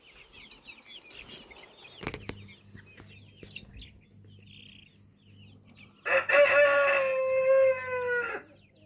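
Chickens in a farmyard with chicks nearby give soft scattered clucks, then a rooster crows loudly and up close near the end, its call drawn out for about two seconds.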